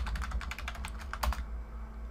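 Close, quick keystrokes on a computer keyboard tap out a command in a rapid burst of about a dozen clicks, ending with one slightly harder key press before a quiet pause.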